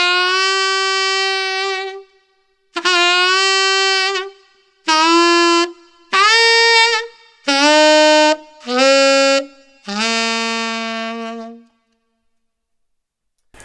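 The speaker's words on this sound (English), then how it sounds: "then you would use your larynx to bend the note up to pitch" A sustained pitched note on A, started below pitch and bent up into tune with the larynx, repeated in about seven separate held tones with short silences between them; loud and close, with no talk.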